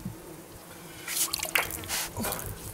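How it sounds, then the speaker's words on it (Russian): Cold spring water drips and trickles outdoors near a village, a few quiet irregular splashes and drops close by over faint background. "Сейчас попьем с вами воды ключевой, чистейшей, из недр нашей земли"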